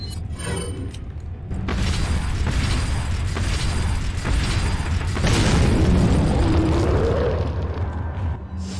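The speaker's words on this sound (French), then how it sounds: "Grenade." A grenade explodes in Resident Evil 4 as a loud, rumbling in-game blast. It swells in two heavy waves of booming noise with debris-like texture.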